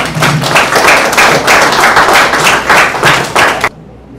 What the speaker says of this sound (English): I would ask for a big round of applause for both of them.